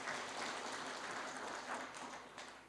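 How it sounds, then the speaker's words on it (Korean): Applause from an audience at a Korean neighborhood redevelopment briefing meeting, a steady wash of many hands clapping heard at a distance, fairly faint, with no voices over it. "많은 박수 부탁드립니다."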